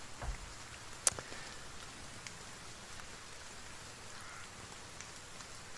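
A soft, steady rain sound effect from a soundboard: a continuous faint hiss of falling rain with one sharp tick near the start.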